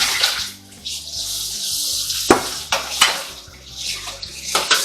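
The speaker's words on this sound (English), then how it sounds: "go ahead and put them over there in the sink of water." Tomatoes dropped into a kitchen sink of water for cooling after blanching, giving intermittent splashes and sloshing with light clinks of dishes, close and fairly quiet.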